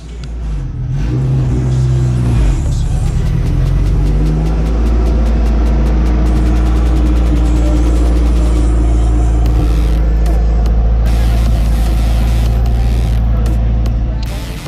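A 700-horsepower car engine roars loudly and continuously, revving with a deep rumbling growl up close for about fifteen seconds.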